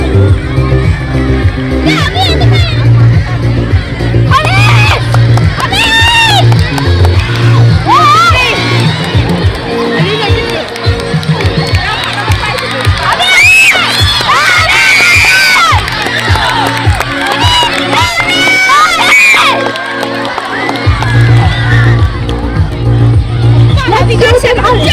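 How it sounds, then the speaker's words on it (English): A large crowd of schoolchildren at a school sports day in Visakhapatnam cheers and shouts continuously. Loud whoops and a babble of voices carry over a steady low hum. "Let's encourage the participants by giving them a big round of applause."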